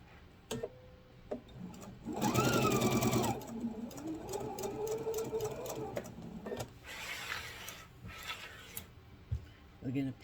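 Sewing machine stitching a grocery bag, running in a steady whirring burst, then a slower stretch, with clicks and handling noises around it and a voice talking.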